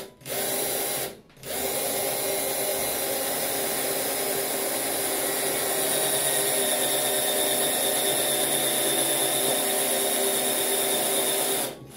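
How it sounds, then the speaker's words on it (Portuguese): Cordless drill whirring steadily as it bores a pilot hole into a surfboard fin box, running continuously for about twelve seconds with only one brief pause near the start. "Eu tô com essa parafusadeira aqui, né, que eu vou começar a fazer o guia, né, do furo para poder entrar com o parafuso"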